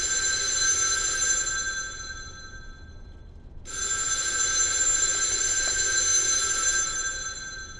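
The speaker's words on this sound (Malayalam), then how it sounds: "നീ ആ ഫോൺ എടുക്കണ്ടടാ." A telephone ringing in two long electronic bursts separated by a short silent gap, loud and clear with no talk over it.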